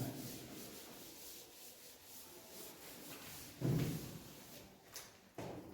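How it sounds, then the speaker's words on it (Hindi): An eraser rubs out writing on a classroom board during a Class 10 maths lesson, giving a few short scrubbing bursts that stand out against faint room noise. "थोड़ा सा हम लोग रब कर रहे हैं।"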